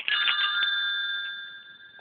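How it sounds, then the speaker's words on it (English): A bell from Captain Cook's private chapel, struck once, gives a bright, clear ring that sustains evenly and slowly fades over two seconds, close and alone. "here I have two absolutely magnificent bells"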